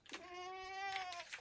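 A goat on a farm gives a single drawn-out bleat, wavering and fairly loud, with some faint rustling around it.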